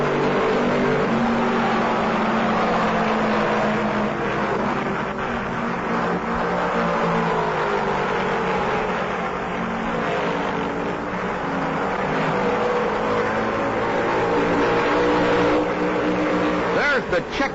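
Stock cars roar together at the 1968 Southern 500 as the race nears its finish, a dense, steady engine drone with a commentator speaking over it throughout.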